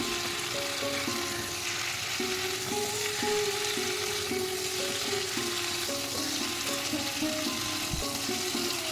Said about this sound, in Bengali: হলুদ গুঁড়ো আর লবণ দিয়ে সবজির সাথে ভালো করে মিশিয়ে দিচ্ছি